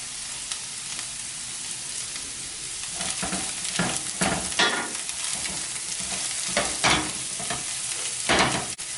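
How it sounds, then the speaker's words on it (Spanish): Crab stew, chupe de jaibas, stirred in a pot with salt, oregano and pepper, heard as a low sizzle broken by repeated scraping strokes of a spoon that grow busier partway through, close and without talk. "Vamos a revolver."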